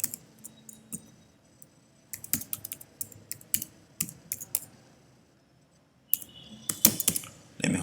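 Bursts of typing on a computer keyboard, quick clusters of crisp key clicks separated by short pauses, close and fairly quiet.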